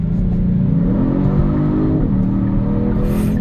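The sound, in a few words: sports car engine revving on downshift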